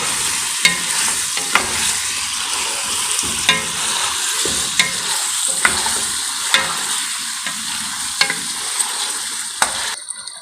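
Whole spices, cardamom, star anise and cinnamon sticks, are stirred in a pot of hot oil for Sindhi biryani: steady close sizzling broken by regular scraping and clinking strokes of the spoon.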